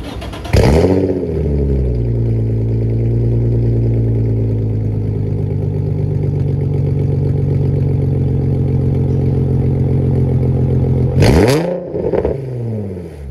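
A car engine fitted with a Tomei exhaust revs up sharply, holds a loud, steady drone for about ten seconds, then drops and blips again near the end, close and alone with no talk.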